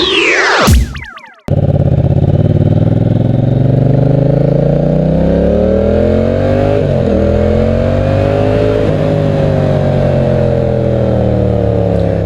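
A loud Yamaha FZ-07 (MT-07) motorcycle with a modified stock exhaust rumbles steadily after a brief burst of noise, its deep exhaust note rising and falling as the bike rides along.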